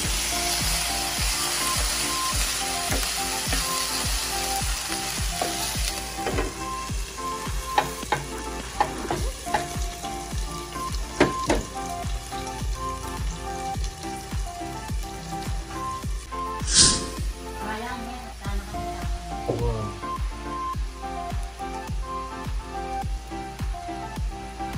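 Sautéed mixture and potatoes fry in a covered pan for lechon manok afritada, giving a steady, close sizzle with soft crackles and a few clinks of utensils throughout.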